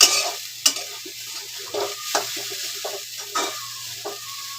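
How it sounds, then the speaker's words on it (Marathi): Grated coconut in ghee is stirred in a pan, with rhythmic scraping strokes about every half second over a soft, steady sizzle, close and clear. "आणि हे सगळं खोबरं ना पूर्ण फिरवून घ्यायचं."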